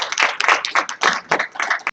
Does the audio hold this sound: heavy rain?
no